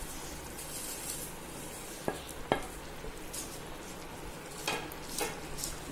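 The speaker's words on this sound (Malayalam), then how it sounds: "സേമിയ ഇട്ട് കൊടുക്കുന്നുണ്ട്." Vermicelli stirred in a pot for semiya biryani gives a soft bubbling sizzle and scraping, marked by two sharp utensil knocks and a few later stirring strokes, fairly quiet with no talking.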